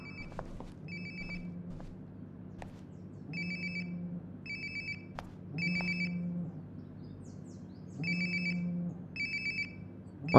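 Phone ringtone from Life Is Strange: Before The Storm sounds in four or five evenly spaced bright electronic bursts, getting a bit louder as it goes, over low background hum with no talking.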